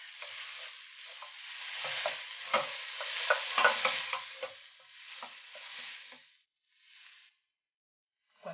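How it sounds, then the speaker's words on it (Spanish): Garlic and onion sizzle in a pot as a spoon stirs them, steady frying crackle with several scraping strokes, then the sound cuts out and returns briefly, close and without speech. "Que se dore el ajo y la cebolla."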